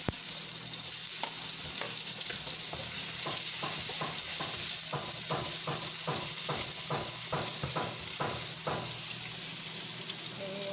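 Sliced onions fry in a hot pan for a mung bean and bitter melon vegetable dish, giving a steady close sizzle broken by a run of sharp, rhythmic spatula scrapes and taps.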